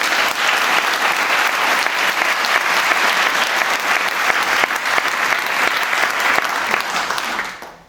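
Sustained, loud applause from a synagogue audience honoring the security team and police, dense and steady throughout before tapering off in the final moment.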